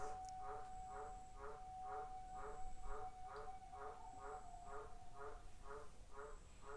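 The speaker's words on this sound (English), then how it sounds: "the green tree frog outside is making the right sounds for the first chakra" A green tree frog croaks outdoors in a steady run of about a dozen evenly spaced calls, moderately close and alone, with a faint continuous tone and soft background hiss.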